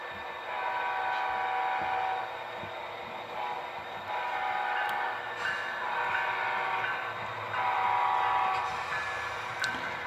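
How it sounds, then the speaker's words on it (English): An HO scale model Amtrak train approaches, a continuous rolling rumble with layered horn-like tones that swell and fade over about ten seconds. "I can hear our Amtrak coming up now."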